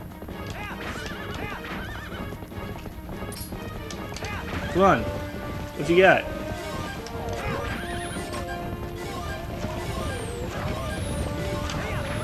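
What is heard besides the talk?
horse neighing and hooves in Twilight Princess video game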